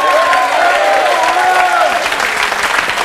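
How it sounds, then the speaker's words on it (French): A studio audience on a French television show breaks into loud, sustained applause with some cheering, a dense steady wash of clapping that fills the whole stretch while faint voices ring through it. "On peut les applaudir très fort."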